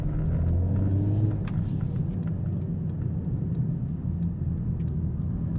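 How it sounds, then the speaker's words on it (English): A Mercedes-AMG CLA45 S with a modified exhaust, steady engine rumble with a brief rise and dip in pitch early on from a manual gear change, followed by even road-car drone and faint ticking. "let's manually shift here. Listen to that."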